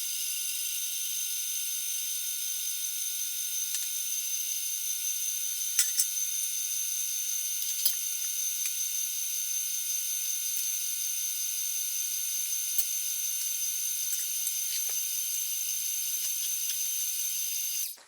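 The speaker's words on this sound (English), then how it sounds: "I'm just going to let it run till a ball forms in the dough" A stand mixer kneads sweetened condensed milk bread dough with a steady, close motor whir and a fine gear rattle. It runs unbroken the whole time, with no voices.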